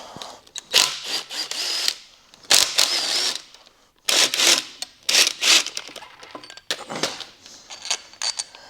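A power drill or impact driver removes starter motor bolts while a MK4 engine is being pulled, in repeated loud bursts of whirring separated by short pauses.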